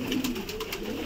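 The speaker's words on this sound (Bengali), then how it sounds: "এই যে পায়রাটা" A black diamond pigeon coos in short, soft, throaty pulses that repeat steadily at close range, with no other sounds around it.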